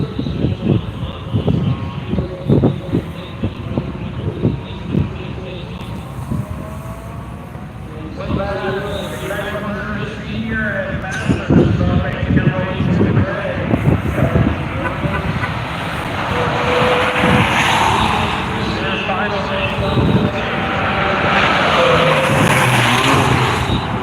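Race cars at Worldwide Technology Raceway, including a Lotus, Porsche and BMW, roar past with rising engine noise that swells toward the end, under steady commentary from a race announcer.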